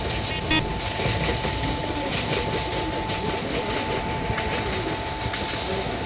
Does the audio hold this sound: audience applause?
no